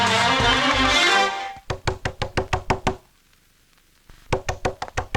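Sharp, rapid knocks on a door come in two quick runs of about ten raps each, separated by a pause, after a burst of music.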